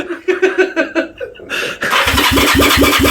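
A restored classic Honda twin motorcycle, a CB125 or CB360, cranks and then catches and fires, its rough, pulsing, rapid exhaust beats running loud and close right after a few seconds of voices and laughter.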